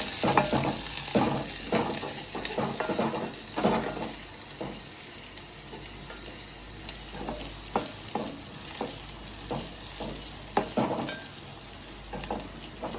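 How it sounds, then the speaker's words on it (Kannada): A tempering of spices fries in hot oil until brown while a spoon stirs it, giving a steady sizzle broken by repeated scraping strokes, close and clear with no voices. "ಇದು ಇವಾಗ ನಾವು ಕಂದು ಬಣ್ಣ ಬರೋ ತನಕ ಹುರಿಬೇಕಾಗತ್ತೆ ಸ್ವಲ್ಪ ಹೊತ್ತು"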